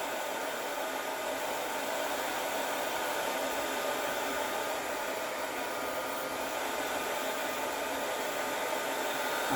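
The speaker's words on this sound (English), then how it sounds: "I'm going to try to dry it with the blow dryer." A blow dryer runs steadily and close up for the whole stretch while drying a glitter tumbler cup coated in Mod Podge, a constant even airy roar with no breaks.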